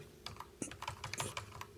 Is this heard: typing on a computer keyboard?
yes